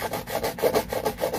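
A motorcycle valve shim from a Raider 150 is rubbed back and forth on sandpaper, giving a quick, even series of soft, close scratching strokes with no talk.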